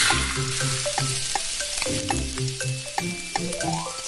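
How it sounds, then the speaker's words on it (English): Batter sizzles in a pan in the Kiddopia cooking game, a bright frying hiss laid over playful tonal musical notes and chimes, no voices. "Add the batter in the pan."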